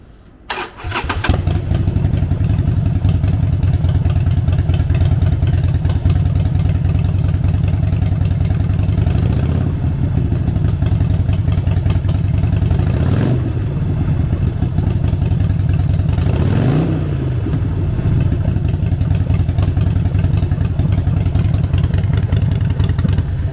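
A 2012 Harley-Davidson XL1200V Sportster 1200 Seventy-Two cranks and fires up, then settles into a loud, steady V-twin idle close by, with two short throttle blips partway through; no voices.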